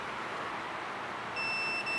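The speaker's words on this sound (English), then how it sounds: "anything that is connected will make our multimeter beep." A steady electronic multimeter continuity beep cuts in near the end while probing car camera wiring, a thin high tone over a constant hum of background noise.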